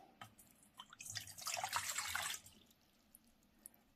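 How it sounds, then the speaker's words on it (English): One cup of cold water poured into a bowl for blooming gelatin, a brief close splashing pour lasting about a second and a half, quiet, with small drips before and after and no talking. "So we have 1 cup of cold water, and we'll add it to our bowl."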